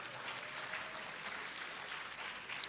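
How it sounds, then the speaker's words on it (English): Audience at a graduation ceremony applauding: a faint, steady wash of clapping heard from a distance, continuous for a few seconds with no voices over it. "I think they all deserve a big round of applause."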